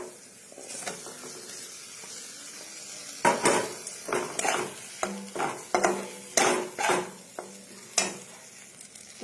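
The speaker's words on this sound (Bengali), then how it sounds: "মশলাটা কষে আসছে" Spice paste for an eggplant and hilsa curry fries in a pan while being stirred, a soft sizzle underneath a run of repeated scraping strokes, close and rhythmic.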